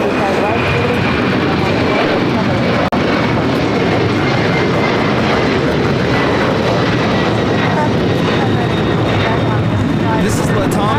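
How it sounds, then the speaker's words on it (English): A LATAM Airlines Boeing 767-300ER jet taking off at LAX for Lima, Peru, producing a loud, steady engine roar with broadband rumble and a faint high whine, sustained throughout with voices talking over it. "This is LATAM Airlines 2479 taking off to Lima, Peru on the 767-300ER."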